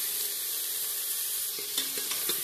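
Onion, tomato and bay leaves fry in a pan for dal palak, giving a steady close hiss with a few stirring clicks and taps toward the end.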